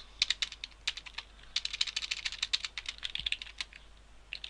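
Fast, irregular typing on a computer keyboard while entering code for a Unity 3D game tutorial, with close, crisp key clicks in uneven bursts and no talk.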